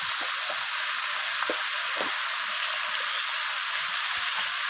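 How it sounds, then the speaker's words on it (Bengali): Prawns and whole spices sizzle steadily in a hot pan for a lau chingri curry, a continuous bright frying hiss with a few soft clicks and scrapes as they are stirred, close and without talk. "তো সমস্ত কিছু ফোড়নগুলো একটু নাড়াচাড়া করে ভেজে নিচ্ছি, নিয়ে চিংড়ি মাছের সাথে মিশিয়ে নিলাম।"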